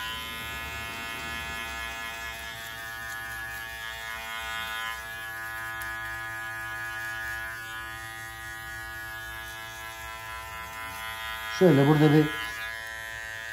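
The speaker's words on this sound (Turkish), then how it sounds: "Makineyi aldık. Yarıma da çekiyoruz." An electric hair clipper runs with a steady, close buzzing hum while trimming the nape during a classic barber's haircut. Someone talks quietly over it, and near the end there is a brief, louder burst.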